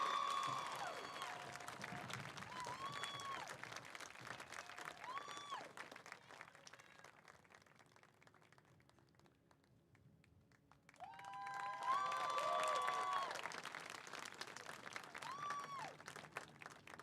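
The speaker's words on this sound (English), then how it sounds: "we can give them another round of applause." Audience applause at a high school senior awards and intent night: sustained clapping that fades to a quiet lull, then swells back loudly, with faint voices in the crowd.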